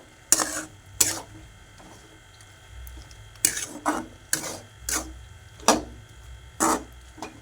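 A spoon stirs curry in a cooking pot with sharp, close scraping clinks against the metal, about ten uneven strokes spaced across the stretch, with no voices.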